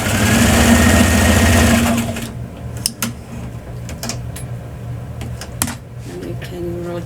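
A sewing machine runs a loud steady stitch for about two seconds with a lighter thread in the bobbin, then stops, leaving scattered handling clicks and a faint hum.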